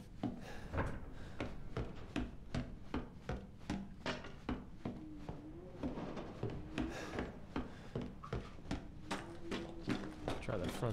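A wooden door creaks and knocks in a video game, a run of repeated clunks and scrapes with someone talking over them.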